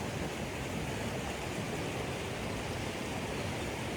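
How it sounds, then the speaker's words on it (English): White water rushes down a stream fed from a well after a storm, a loud, constant broadband roar with no breaks, close to the water and without voices. "beautiful white water coming down now, all that lovely oxygen going in, look."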